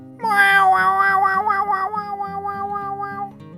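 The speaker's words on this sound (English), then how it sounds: "you get to do cat things like scratch stuff, knock things over, and meow" A long, drawn-out cat meow from the video game Stray rises and wavers for a few seconds over a steady musical backing, loud and close.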